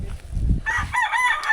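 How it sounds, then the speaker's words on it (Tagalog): A rooster crows loudly and close by among chickens in a rural yard in Bohol, with low clucking and rustling just before the crow. "Yan, daming manok dito."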